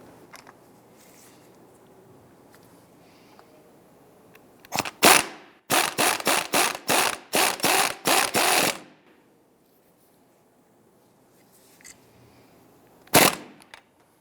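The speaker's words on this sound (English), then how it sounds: "Go ahead and tighten down this nut." Strut mount nut tightened onto the coil spring of a 2005-2010 Chrysler 300 with an impact wrench: two short bursts, then a fast run of about eight rattling hammer pulses, and one last brief burst after a pause, over quiet workshop background.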